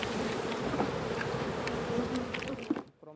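Honey bees buzz densely around their hives at a forest apiary, a continuous close swarm hum with no talk, cutting off abruptly near the end.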